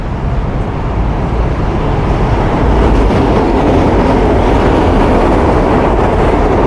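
A light rail train in Manila rolls by close and loud, a steady rushing rumble with a faint rhythmic clatter building toward the end, no voices.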